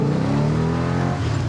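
A 1966 Pontiac GTO accelerating hard, its engine a loud, steady, rising drone heard from inside the car, with a brief dip near the end as it shifts.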